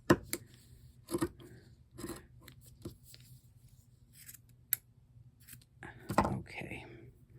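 Fabric is snipped with scissors during a craft project finishing a fabric vessel, giving quiet intermittent crisp cuts and rustles across the stretch, with brief soft murmuring near the end.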